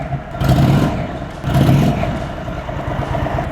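A deep, heavy air-cooled Indian Chief Thunderstroke motorcycle engine revs up twice in quick succession, loud and close, then settles back to a rumbling idle.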